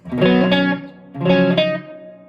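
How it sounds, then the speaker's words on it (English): Two sustained electric guitar chords through a Luna 15W prototype amplifier ring out with a spacious reverb tail, each decaying slowly into a lingering wash of sound. "If I turn the reverb up more, you can hear that a little better."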